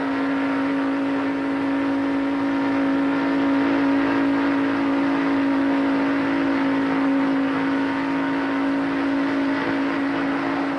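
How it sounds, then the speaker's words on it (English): A 1994 NASCAR race car engine roars steadily from inside the cockpit, a loud, constant droning whine with a sharp buzzing tone throughout. "How do they race? From inside Jeff Gordon's car."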